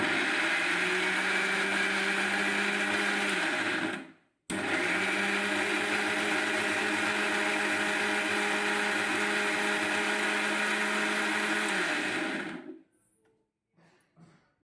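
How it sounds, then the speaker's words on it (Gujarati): Mixer grinder crushing onions for a sev tameta gravy, a loud steady motor whir running about four seconds, cutting out briefly, then grinding on for eight more seconds before stopping, with a few faint clatters after. "હવે આપણે ડુંગળીને મિક્સરમાં ક્રશ કરી લઈશું"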